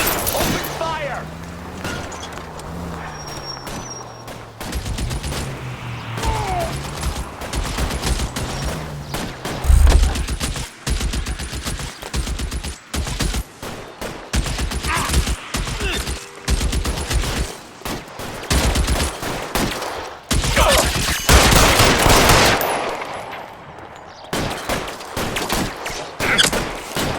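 Shootout gunfire in the crime game L.A. Noire: dense, rapid volleys of pistol and rifle shots with thuds and booms, sustained throughout, mixed with voices and background game sound.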